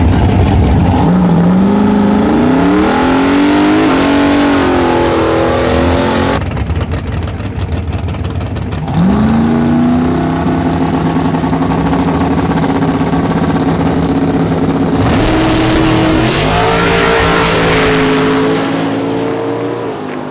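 Methanol drag race car at a track day, loud and close, engine revving repeatedly with rising pitch sweeps, then a harsh roar as it launches on a pass.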